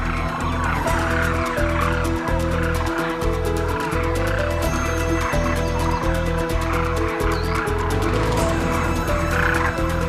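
Loud chorus of common cranes calling at a grain-feeding enclosure in the Thar desert, continuous overlapping croaking and trumpeting notes from many birds close by, with no talk.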